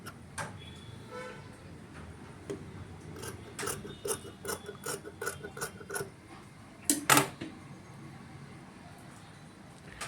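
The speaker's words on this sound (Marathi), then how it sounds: "तर बघा आता अशा पद्धतीने मी कटिंग करून घेत आहे." Scissors snipping through fabric while cutting out a homemade sock, a run of quick close metallic clicks and snips in the middle and a louder double cut near the end, no talking.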